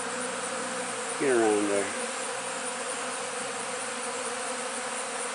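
Honey bees buzz steadily around backyard pollen feeders in late autumn, a close insect drone with one brief louder pass as a bee flies near, and a short spoken line.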